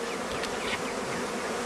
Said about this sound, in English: the bees are already coming up and they're coming around that cage